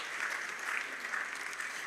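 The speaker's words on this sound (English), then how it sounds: "Please, another round of applause for the Mighty Gabby." An audience at the opening ceremony of a ministerial development forum gives the calypsonian the Mighty Gabby a round of applause, a dense, continuous roar of many hands clapping with no gaps.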